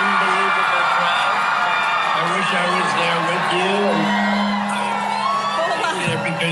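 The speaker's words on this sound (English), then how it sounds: "it sounds like an unbelievable crowd" A large crowd at an Arizona political rally cheers, whoops and yells loudly, a dense sustained roar with shouted calls rising above it, close and constant throughout.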